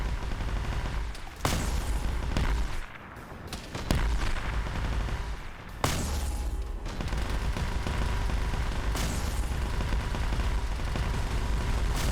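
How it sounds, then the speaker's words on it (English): Dense, sustained gunfire in a winter battle in a military video game, with rapid overlapping shots, autocannon bursts and heavy booms rolling continuously at close range, with no talking. "The hills are alive with the sound of gunfire"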